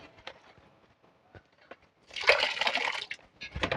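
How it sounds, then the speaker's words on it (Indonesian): Water poured out of the box of a cordless 12-volt DC dual-pump jet cleaner, a loud splashing gush of about two seconds that follows a few faint knocks and handling noises. "saya buang dulu airnya"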